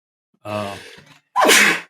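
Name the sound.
sneeze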